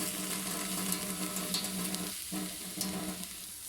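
Water sprinkled over a hot, freshly baked chickpea sourdough loaf sets off a steady crackling sizzle with fine popping, close and continuous for a few seconds.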